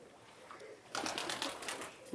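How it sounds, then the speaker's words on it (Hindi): A young pigeon held by a breeder gives soft, low coos, faint and somewhat muffled against steady background noise, growing a little fuller toward the end. "ये कबूतर है"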